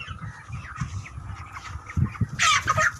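Chickens resting together make soft, low clucking murmurs throughout, and a brief louder squawk near the end.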